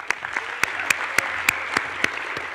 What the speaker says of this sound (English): So round of applause for Kevin